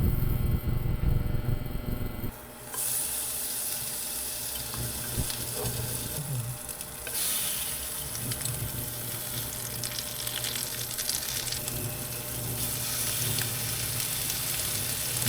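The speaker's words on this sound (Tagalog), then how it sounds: "Then iprito natin." Food sizzling as it fries in a pan in an apartment kitchen, a steady loud crackle and hiss that softens slightly after a couple of seconds and continues throughout.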